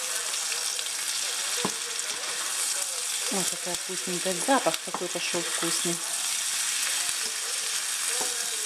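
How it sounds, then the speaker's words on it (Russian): Cabbage fries on high heat in a pan, giving a constant loud sizzle and crackle that runs throughout while someone talks over it. "Это жарю на сильном огне, как я жарю на сильном огне картошку."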